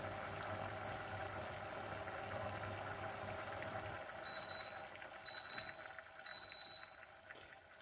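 Redcurrant sugar syrup boiling hard in a pan gives a steady, close bubbling hiss for about four seconds, then quietens while a few short electronic beeps sound.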